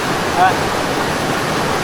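River water flows steadily at a riverside, a loud, constant rushing wash with no pauses from start to finish.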